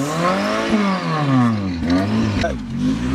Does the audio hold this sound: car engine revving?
yes